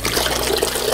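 Water gushes from an upside-down plastic bottle spun to form a tornado vortex as it drains, a loud, steady, rushing gurgle of draining liquid.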